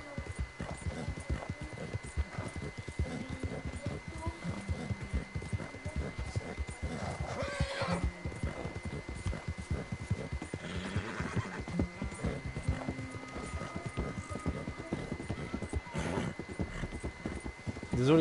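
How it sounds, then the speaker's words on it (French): A horse in Red Dead Redemption 2 gallops with a continuous rapid clip-clop of hooves, broken by a couple of loud whinnies, with a voice talking over the hoofbeats. "je suis concentré sur ma conduite à cheval."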